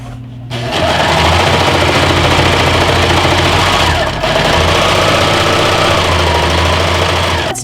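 A serger sewing machine runs at full speed stitching the edge of fabric for a glasses case, a loud, steady whirring drone with a brief dip midway, close and continuous.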